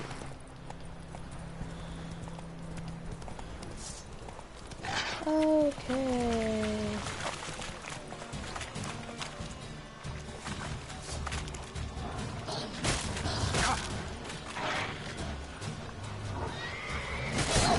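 Roach, a horse in The Witcher video game, clip-clops along at a trot and lets out one clear, loud whinny partway through, with game ambience and a brief spoken word around it.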